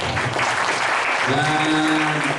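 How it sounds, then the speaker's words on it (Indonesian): Brief burst of audience applause for a guest named Jack at a church service, a dense wash of clapping that swells and continues, with a voice and faint music tones emerging near the end. "Tepuk tangan dulu buat Jack"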